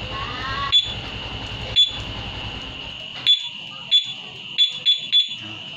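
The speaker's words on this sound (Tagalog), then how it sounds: "pag tumulog ng dalawang beeps sa dulo, hindi na mag-a-alarm yung motor" Sharp electronic beeps from a Yamaha Mio i 125 motorcycle alarm converted from two-way to three-way, several short chirps at uneven intervals, some in quick pairs, over a steady high whine.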